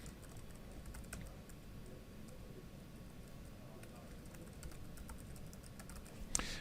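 Keystrokes on a computer keyboard enter global admin credentials for Office 365 services, a steady run of quiet taps over a low background hum, with one sharper click near the end.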